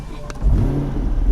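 A Dodge Hellcat fires up and revs, a sharp click followed by a deep, loud engine roar that swells and holds for about a second, with a voice briefly over it.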